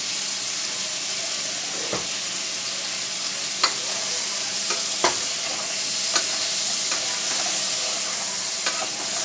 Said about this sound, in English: Now I'm frying up my andouille sausage in with my chicken